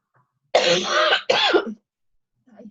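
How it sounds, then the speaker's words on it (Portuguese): A single loud cough followed by a harsh throat clearing, close by, then a faint murmur after a short pause. "Eu esperando para não tossir"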